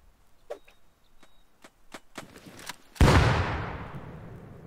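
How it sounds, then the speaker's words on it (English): A flashbang grenade goes off in Rust with a sudden loud, close burst that rings and decays over a second or two, preceded by a series of faint, evenly spaced thuds and clicks. "That's a flashbang."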